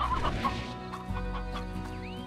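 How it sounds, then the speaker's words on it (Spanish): Farm chickens in the video game Slime Rancher cluck in short, close, repeated bursts over a quiet background, with no speech. "Tenemos gallinas."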